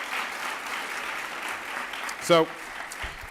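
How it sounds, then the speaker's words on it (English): An audience claps through a broad, steady wash of applause at an employee service award presentation, moderately loud and continuous, as a single voice speaks briefly near the end. "let's give a big round of applause to the persons who are here today"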